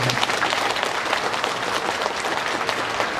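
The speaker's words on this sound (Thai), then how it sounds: "ขอให้ทุกคนปรบมือดังๆให้กับ" Audience applause for the band at an outdoor show at Paradise Park: dense, steady clapping from a crowd filling the whole moment, loud and even with no voices standing out.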